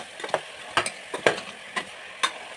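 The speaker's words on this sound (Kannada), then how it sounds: "ಈ ಥರ ಫ್ರೈ ಮಾಡ್ಕೊಳ್ರಿ." Eggplant pieces fry in oil for an eggplant curry, with a steady low sizzle broken by several sharp scraping stirs of a spoon against the pan, close by and with no voices.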